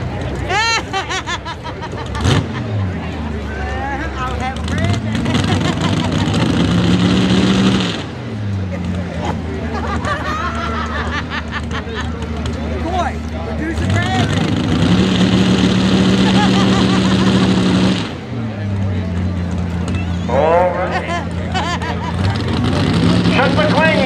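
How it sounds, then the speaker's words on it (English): 540 cubic inch diesel pulling tractors of roughly 1,000 to 1,300 horsepower roar at a tractor pull event, their engines surging and rising in pitch in long pulls, with crowd babble and an announcer's voice running throughout. "540 cubic inch diesel smoker tractors."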